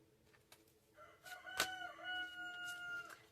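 A rooster crows once in the middle distance, a drawn-out harmonic call rising and trailing off over a quiet background, with a faint click just before it.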